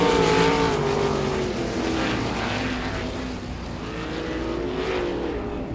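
RaceSaver sprint cars roar around the Devils Bowl Speedway dirt oval, engines loud and continuous with rising and falling pitch as the pack passes close by, no talk over the sound.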